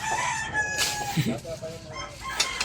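A rooster crows loudly close by, a long drawn-out call, with other fowl clucking and faint voices in the background.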